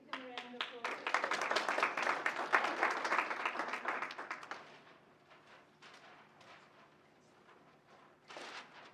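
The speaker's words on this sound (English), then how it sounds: "Give them a round of applause." Audience at an organizational workshop giving a round of applause, a dense burst of clapping lasting about four seconds that fades out, with a voice talking briefly before and after.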